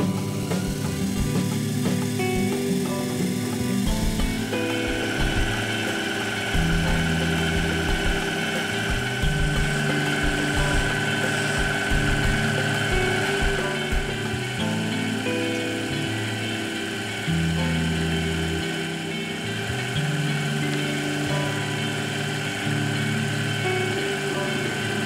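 A metal lathe runs while brass screws are hand turned against a T-rest for clockmaking. A steady, close motor drone hums throughout with faint shifting mechanical tones and no talking.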